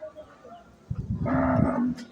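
A large cow in rural Khon Kaen, Thailand, gives one loud, deep moo lasting about a second, close by, after a brief quiet moment.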